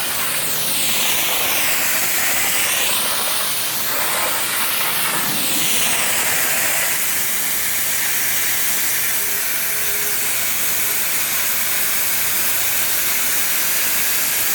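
Tile cleaning machine spinning on an old tile floor in its final stage, a loud, steady hissing roar with sweeping whooshes early on, then settling into an even spray-like rush; close and alone without talk.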